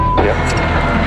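A rally car's engine drones roughly after losing oil pressure during a stage of the Oregon Trail Rally, a loud, low, steady mechanical rumble heard close up with a brief higher whine partway through.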